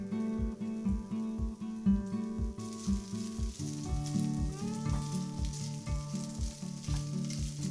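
Bacon sizzles and fries in a pan, a steady crackling hiss broken by regular stirring or scraping strokes, close and fairly quiet, with no voices.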